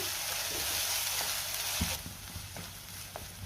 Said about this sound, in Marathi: छान तेल सुटेपर्यंत वाटण परतून घ्यायचे.